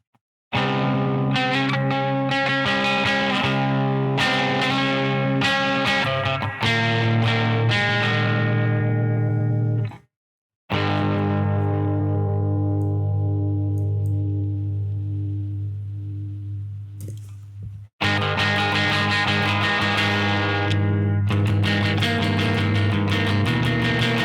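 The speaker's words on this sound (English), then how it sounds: "now this is the guitar you're currently hearing" Electric guitar with effects rings out in strummed chords and sustained notes, loud and close, with two brief silences and a long fading chord mid-way.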